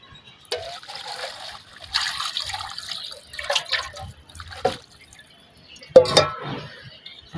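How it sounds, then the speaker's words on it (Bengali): Water poured into a pot of khichuri during home cooking, with splashing and trickling pours that come in several bursts, a loud splash near the end, close by and with no talk over it. "পানি দিয়ে দেবো এবার।"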